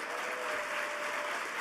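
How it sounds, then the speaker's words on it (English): A crowd at a university MLK Day event applauds in a brief, even, continuous wash of clapping heard from a distance. "Give that man a round of applause."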